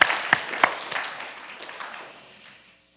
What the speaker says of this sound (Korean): 우리 박혁 권사님 우리 한국에서 또 오셨으면 우리 큰 박수로 환영하도록 하겠습니다.